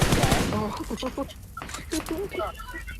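Gunfire crackles in a PUBG Mobile match: rapid, sharp shots burst loudly at the start and then recur more sparsely, while a player talks over the shooting.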